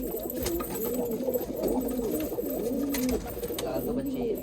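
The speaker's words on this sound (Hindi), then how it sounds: "तो भाई ये कबूतर है जो कि खुलने वाले हैं।" Nishavre pigeons in a small breeding setup coo over and over in soft, rolling, overlapping warbles, close by and steady throughout, with faint background noise.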